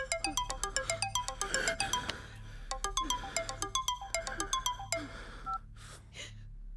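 Melodic mobile phone ringtone plays for an outgoing call, a bright repeating tune of descending notes in steady rhythm, fairly close and clear, with a brief breathy sound near the end and no talk.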